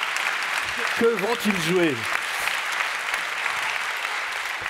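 A school concert audience applauds steadily throughout, dense clapping filling the room while a person speaks briefly over it.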